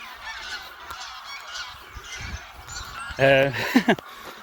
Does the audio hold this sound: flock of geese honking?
yes